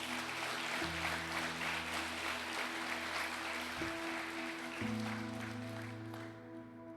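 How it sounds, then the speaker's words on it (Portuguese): A church congregation claps during a service, a sustained, fairly faint spread of applause over sustained organ-like chords that shift, the clapping thinning out toward the end. "dê uma salva de palmas para Ele"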